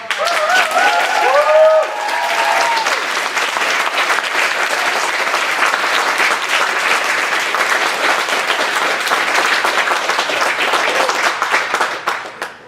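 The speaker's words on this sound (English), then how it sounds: "Can we give a huge round of applause to all of" Sustained loud applause from an audience, steady clapping filling the room, with a voice briefly heard at the start.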